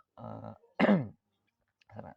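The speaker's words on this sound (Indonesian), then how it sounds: "maaf ya teman-teman, lagi batuk." A person coughing and clearing their throat in a quiet room: three short, separate bursts, the middle one the loudest and harshest, with silence between them.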